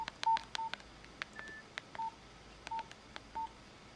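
Phone keypad tones play: a series of short, faint electronic beeps, about eight spaced presses at an irregular pace, with sharp clicks between them.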